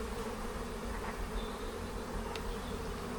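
Honey bees from one of a beekeeper's strongest colonies buzz steadily during a hive inspection, a close continuous droning hum with no voices.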